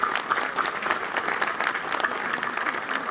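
An audience in a studio setting breaks into sustained applause, a dense, even patter of many hands clapping close by for the whole stretch without a pause.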